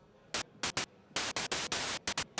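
Bursts of white noise from a Dreadbox Eurorack scatter module switch on and off at irregular moments, with some short hisses and some longer ones set apart by quick silent gaps.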